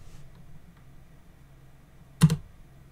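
A single short burst of computer keyboard keys clatters after near silence, a quick close cluster of two or three clicks, quiet and alone.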